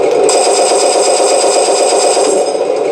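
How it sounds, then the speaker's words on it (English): A tank's .50 caliber heavy machine gun in a video game fires a rapid, continuous burst of loud shots, unbroken for nearly three seconds before cutting off. "Good shell ejection sound on all the soundtracks for the Taigen tanks. That sounds like a 50 cal."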